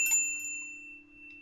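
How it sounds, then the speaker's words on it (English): A single chime from the doorbell of the Shanghai café in the game Katawa Shoujo, a clean bright ring that hangs and slowly fades, with a low steady hum beneath and no talking. "The familiar doorbell to the Shanghai rings out as Hanako enters"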